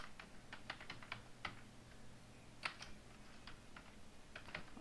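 Someone types on a computer keyboard while entering web design course text, a quick irregular patter of key clicks with a few louder strikes, fairly faint and close, with no voice.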